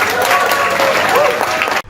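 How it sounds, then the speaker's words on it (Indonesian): Audience applause at a public event where a pantun is recited, a dense steady clatter of many hands clapping close by for nearly two seconds before cutting off abruptly. "Ini tepuk tangannya kurang kencang ini."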